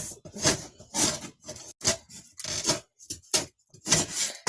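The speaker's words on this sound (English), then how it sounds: "sanding off the edges here." Repeated rasping strokes of sandpaper rubbing the edges of a napkin-covered wood round, coming in uneven bursts close by with short pauses between passes.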